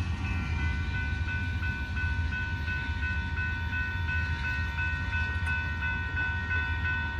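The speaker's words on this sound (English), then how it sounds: "That was northbound manifest train." Norfolk Southern northbound manifest freight train rolling past in Buda, Texas, a loud steady rumble of wagons with sustained ringing metallic squeal over the whole passage, no speech.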